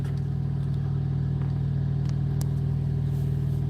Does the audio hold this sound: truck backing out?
yes